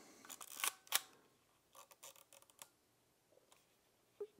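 Mechanical clicks and a brief whirring buzz from the self-timer of a Nikkormat FTN film SLR camera, with sharp close clicks early on, a run of softer ticks in the middle and a final click, quiet with no talk.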